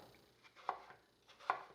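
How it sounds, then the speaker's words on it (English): A knife chops through cored, peeled apples for a caramel crumble pie, two crisp, distinct cuts about a second apart against a board. The cuts are close and fairly quiet, with no talk. "So I'm just going to start by chopping these"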